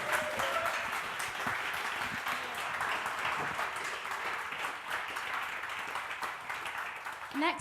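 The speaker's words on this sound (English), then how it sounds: "Round of applause for Sana" An audience at a music lounge event claps and applauds steadily, a sustained wash of many hands at moderate distance with scattered voices mixed in.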